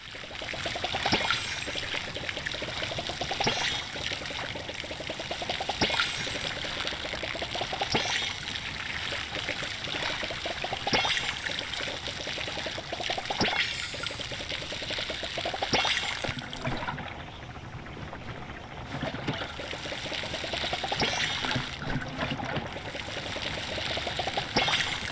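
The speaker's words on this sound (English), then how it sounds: "You can hear the water sloshing around in the can as you like wiggle around." Water sloshing and trickling inside a nearly empty garden watering can as it is wiggled about, a continuous close wet swishing with repeated surges over about twenty-five seconds.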